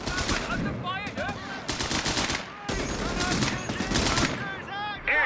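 Sustained machine-gun and rifle fire in Company of Heroes 3, loud and continuous bursts in close succession, with battlefield voices calling out beneath the shooting.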